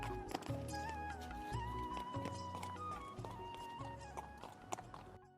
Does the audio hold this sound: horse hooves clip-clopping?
yes